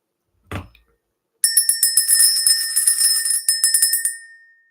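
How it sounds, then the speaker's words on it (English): A small handheld bell rung for an energy-clearing ritual: one soft knock, then a rapid string of bright metallic rings that keep overlapping and fade out over a few seconds, close and clear with no talking. "So let's ring the bell."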